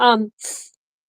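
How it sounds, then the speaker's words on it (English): A single sharp sneeze: a voiced intake followed by a hissy burst, loud and close, then silence. "That was a strong sneeze."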